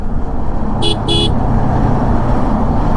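Two short car horn toots on a jammed national highway, heard over a steady rumble of idling and slow-moving traffic, probably recorded from a motorcycle stuck in the queue.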